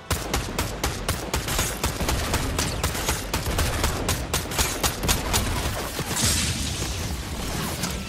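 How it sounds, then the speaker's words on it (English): Gunfire in Fortnite gameplay, a rapid rattling burst of repeated shots at a steady rhythm that fills the whole stretch, loud and close, with a brief whoosh near the end. "Oh, somebody else is shooting at me as well."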